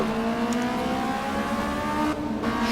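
A modded Honda Civic engine in Assetto Corsa, revved hard and held at high rpm, a loud, steady droning exhaust note with a brief dip in pitch before climbing again.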